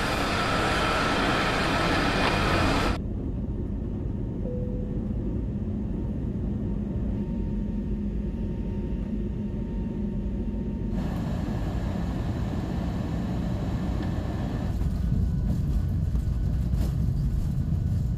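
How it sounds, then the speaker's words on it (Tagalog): Inside an airplane while boarding and taxiing, a loud steady engine and cabin roar fills the scene, dropping to a softer hum midway and then swelling again near the end, with no talking. "Sakay na tayo ng aeroplano."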